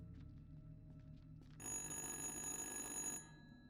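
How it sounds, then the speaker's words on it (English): An old disconnected telephone in an abandoned house in the horror game Dark Pictures: Little Hope starts ringing, a bright sustained electronic ring bursting in over quiet ambience and lasting about a second and a half before cutting off. "The phone that is not connected is now ringing."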